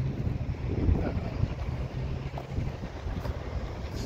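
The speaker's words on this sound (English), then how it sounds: "It's windy" Steady wind gusting outdoors, a broad rough rumble with microphone buffeting that fills the whole stretch at moderate loudness, with no talk over it.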